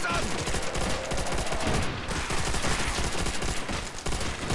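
Dense, continuous machine gun fire in Minecraft Custom Zombies rattles loudly and almost without pause, with only brief dips in the barrage.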